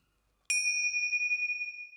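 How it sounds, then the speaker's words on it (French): Fake gong sound effect: a single bright metallic strike out of silence, followed by a clear sustained ringing tone that slowly fades over about a second and a half. "Petit coup de gong pour pas faire fuir toute la bande zodiacale."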